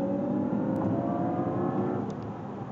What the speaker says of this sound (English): it sounded like, almost like a petrol engine